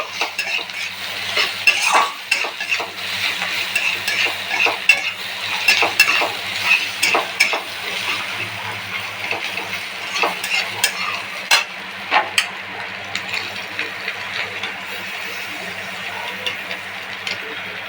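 Food is stirred and fried in a pan until deep red, giving a steady close sizzle broken by frequent scraping and clinking of a utensil against the pan.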